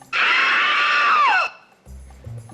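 A sustained high shriek from the horror film Psycho, a woman's scream held for over a second before sliding downward and cutting off, followed by a brief low music sting.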